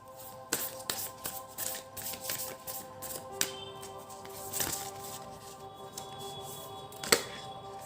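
Tarot cards being shuffled by hand, a run of soft papery riffles and taps with a few sharper snaps near the start and end, close and fairly quiet, with faint tonal background sound.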